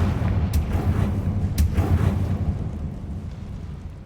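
A Confringo spell blast in Hogwarts Legacy sets off two sharp bursts over a heavy, rumbling low roar that slowly fades, booming and explosive with no talk.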